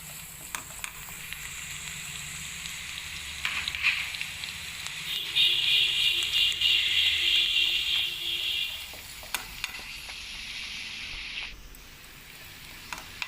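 Mutton pieces sizzle and fry in a pan for mutton curry, with a steady sizzle that swells in the middle as the meat is stirred, plus a few scraping clinks, all close and with no talk.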